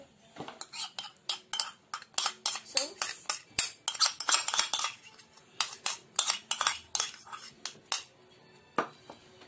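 Metal utensils and dishes clink and scrape in quick, irregular bursts while chicken is marinated with ketchup in a kitchen, the clatter close and fairly loud with brief pauses between handlings.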